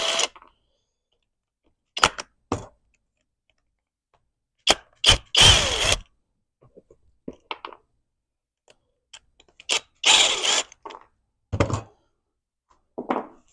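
The interior door panel of a 2009 Smart car is pried loose, giving a series of sharp plastic clicks, knocks and short cracking snaps scattered irregularly through near silence, close and crisp.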